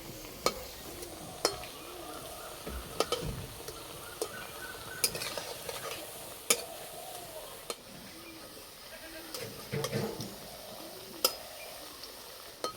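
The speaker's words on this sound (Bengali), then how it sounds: "হালকা লাল লাল করে ভেজে নেব।" Semolina and carrot snacks frying in oil, a continuous soft sizzle punctuated by regular sharp utensil taps and clinks, with a faint animal bleat in the background.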